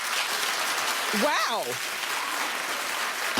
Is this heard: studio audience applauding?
yes